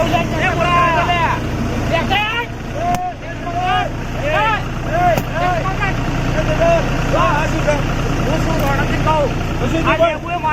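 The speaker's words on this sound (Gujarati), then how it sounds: "ઢેસર બંધ કરાવો ઢેસર બંધ કરાવો" A threshing machine engine runs with a loud, steady low drone throughout, heard under several people talking and calling out over it.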